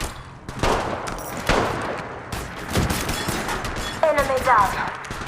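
Gunfire in the mobile version of the Apex Legends battle royale game: repeated bursts of shots, loud and close, mixed with game sound effects and a clipped in-game voice line near the end.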